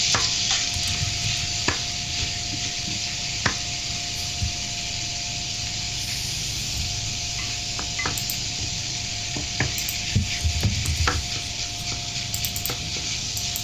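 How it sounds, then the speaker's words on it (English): Ground beef fries on high heat in a pan, with a constant loud sizzle and hiss and intermittent clicks and scrapes as a spoon stirs and breaks up the meat. "we're doing this on high heat. So you're just going to constantly just use your spoon to break down the ground beef."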